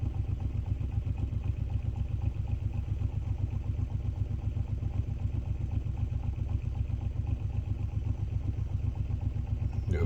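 A homemade magnet ramp pulse motor runs steadily up close, giving a fast, even mechanical clatter and hum that repeats without a break for the whole stretch.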